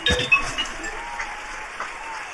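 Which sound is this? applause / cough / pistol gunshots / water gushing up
applause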